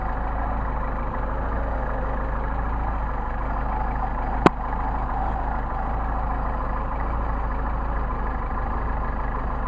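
A car engine with a freshly tuned Solex carburetor idles steadily at low rpm, a constant close-up rumble broken once by a single sharp click partway through.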